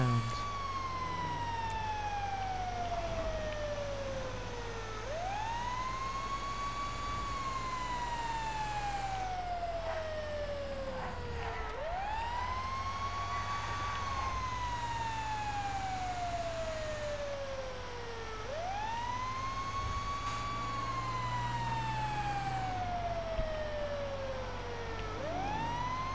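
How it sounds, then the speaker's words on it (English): Ambulance and fire truck sirens wail together in Grand Theft Auto V, looping in long rising and falling sweeps over a steady low engine rumble, loud and close throughout. "I called in the AI ambulance, I called in the AI fire truck, and they're following me."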